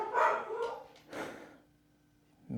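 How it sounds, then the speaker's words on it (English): Dogs barking at a distance inside or near a home, a short burst of two or three barks followed by quiet, with no speech over them. "If you can hear the dogs barking,"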